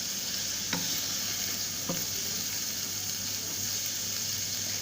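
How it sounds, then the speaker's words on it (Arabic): Alexandrian-style liver being sautéed in a pan: a steady soft sizzle with a couple of brief clinks of a utensil stirring against the pan, fairly quiet and without any voices. "اديها بقى تشويحه حلوه كده"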